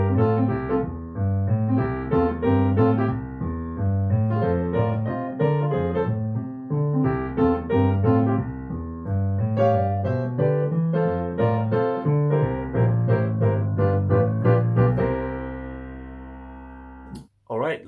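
Lively boogie woogie piano with a rolling, driving left-hand bass pattern and bouncy right-hand chords, played solo and ending on a held final chord.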